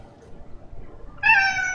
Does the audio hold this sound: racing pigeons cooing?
no